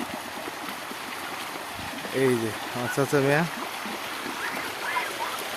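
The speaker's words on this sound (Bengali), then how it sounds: "রাস্তার উপর দিয়া কিভাবে পানি যাইতেছে" Rainwater rushes across a flooded road after heavy rain, a steady broadband wash that runs under the whole clip while someone talks briefly over it.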